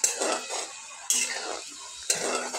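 Homemade hair oil is stirred in a pan over low gas, with three even, scraping stir strokes about a second apart, close and fairly loud.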